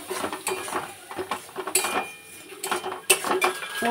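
A utensil stirs spices through food in a cooking pot, with repeated scraping and clinking of metal against the pot in short irregular strokes, close and clear, no voices.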